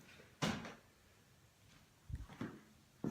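A workshop door in a theatre scenography studio opens or closes, with a sharp knock followed by several softer bumps and clatters, close by and without talk.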